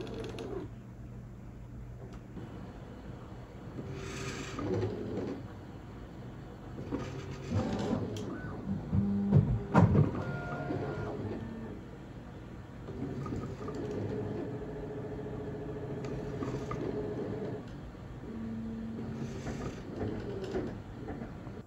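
A 35mm film scanner running with a cover over the stage, quiet mechanical whirring and soft clicks and thumps, with a louder clattering stretch midway, close and alone.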